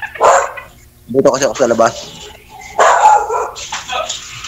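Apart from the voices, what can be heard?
dogs barking angrily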